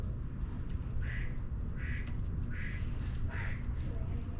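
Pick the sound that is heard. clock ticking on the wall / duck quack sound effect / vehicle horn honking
duck quack sound effect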